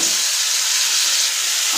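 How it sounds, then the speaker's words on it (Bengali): Mola fish and bottle gourd peel frying in a pan, a steady loud sizzle of hot oil, close and continuous with no voices. "এবার মাছগুলো ভাজা হয়ে যাক"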